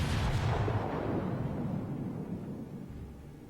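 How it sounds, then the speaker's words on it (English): Battleship main guns fire in the naval combat game World of Warships: a heavy, booming blast that rolls on and slowly fades over several seconds, loud and close, with no talking. "you notice that I'm firing each cannon individually."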